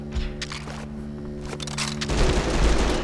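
Machine gun fire in the video game Hunter: The Reckoning, in a sewers level: a loud, sustained burst of rapid shots with crackling impacts that grows denser and heavier toward the end, with no voices.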